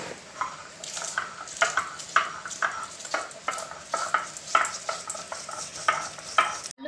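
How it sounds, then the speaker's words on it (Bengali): Cardamom, cloves and cinnamon sizzle in hot oil left over from frying potatoes, with a steady crackling fry and repeated sharp spoon-stirring clinks against the pan throughout. "এবারে সেই তেলেই গরম মশলা অর্থাৎ এলাচ, লবঙ্গ, দারচিনি ফাটিয়ে রেখেছি"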